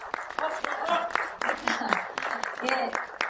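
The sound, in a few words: audience applause at a press conference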